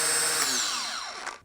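A DeWALT Atomic DCG400/DCG402 cordless mini angle grinder runs at steady high speed with no load, a loud continuous whine that starts winding down near the end.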